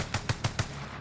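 A BAR rifle firing in a video game, four evenly spaced, punchy shots in quick succession, close and loud.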